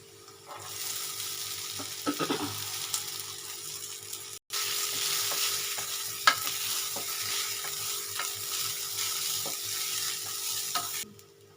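Sabudana (tapioca pearls) and potatoes with cumin seeds frying in a pan on a gas stove, a steady loud sizzle throughout with a few scraping stirs near the start and a brief cut in the middle.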